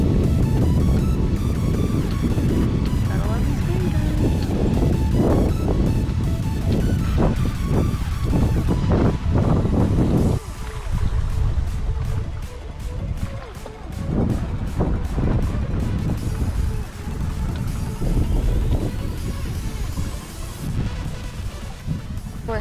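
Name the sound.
wind and water on a sailboat sailing in a wind storm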